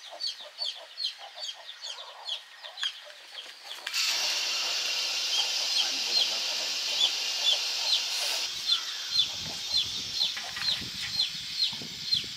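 A fighting rooster back from a swim gives repeated sharp clucks and calls, close and fairly quiet, over a soft background hiss that rises partway through.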